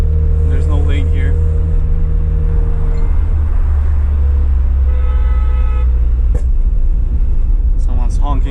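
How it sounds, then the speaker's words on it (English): A car horn toots several times at a gathering of cars including a Mazda RX-7 and RX-8, sounding over a loud rumbling engine, with people talking nearby. "Someone's honking."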